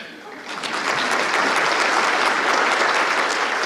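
Audience at a chamber of commerce annual event breaks into applause, starting quieter and swelling after the first half second into a loud, steady round of clapping that holds to the end.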